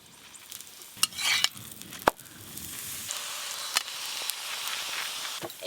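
A paneer paratha fries in oil on a pan, with a soft background sizzle broken by sharp scraping and stirring clatters from a spatula.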